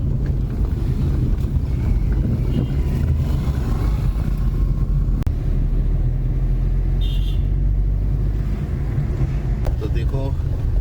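Car driving through traffic in the town of Bhimtal, a steady low engine and road rumble with wind buffeting the microphone, a faint horn-like tone partway through, and a person talking over it.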